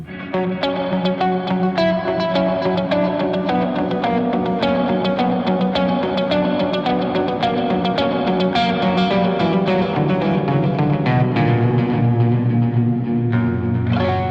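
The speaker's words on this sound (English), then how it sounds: "we're toggling the reverb, the delay on, but it's not very loud" An instrument is played continuously through a Boss RV-500 reverb and delay pedal, its notes and chords smeared with echoing repeats and lingering wash, loud and steady for about fourteen seconds with no talking.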